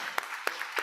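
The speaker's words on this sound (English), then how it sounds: "Let's give her a round of applause" Applause from a forum audience at the World Food Forum grand opening, a short burst of scattered hand claps at moderate distance.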